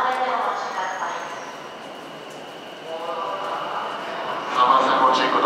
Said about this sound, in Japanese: 電車到着です。